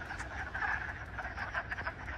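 Toads croak during mating season, a dense, loud chorus of overlapping pulsing calls from many animals close by, with no talk.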